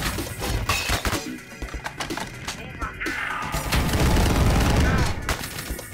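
Rapid machine gun fire in the Ion Fury video game, dense crackling shots mixed with breaking and splintering impacts, loud and continuous, swelling toward the end amid other game sounds.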